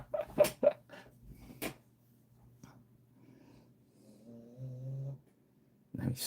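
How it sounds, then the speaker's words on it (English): Slow, soft snoring rumbles with a few nasal snorts and breathy pulses, one drawn-out tonal snore near the end, over a quiet room with low background hum. "Now he's snoring."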